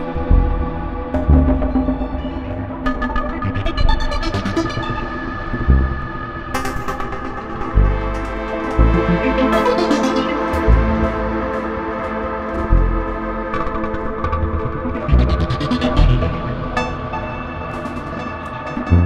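Modular synth arpeggio sent through a gently modulated wave shaper blended with the dry signal, repeating bright melodic note patterns with shifting harmonic sweeps over a sustained low drone, loud and alone.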